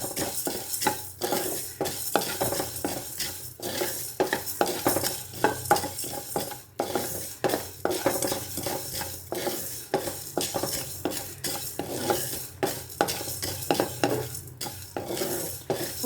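Mustard seeds and spices dry-roasting in a pan for tamarind pulihora, with continuous brisk stirring, rhythmic spoon scrapes against the metal and a light crackling sizzle, close and steady with no talking.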